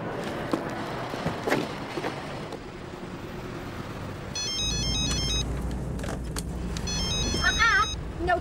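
A mobile phone ringtone chirps twice in short repeating bursts inside a moving car, over steady road rumble and engine noise, following earlier talk.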